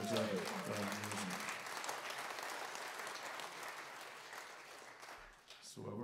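A live blues show audience in London claps and cheers in sustained, dense applause. A voice is briefly heard at the start, and the applause thins out near the end.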